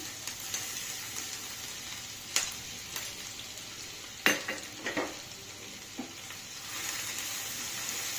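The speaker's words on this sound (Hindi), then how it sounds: "अब इसके अंदर हम डालेंगे चॉप्ड गार्लिक अनियन," Chopped garlic and onion frying in hot refined oil for paneer chilli, a steady close sizzle throughout with a few sharp stirring clinks and spatters standing out.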